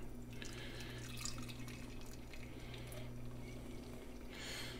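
VooDoo Ranger Fruit Force IPA is poured from a can into a glass, a steady fizzing, splashing stream that runs for several seconds at a moderate level with no talk.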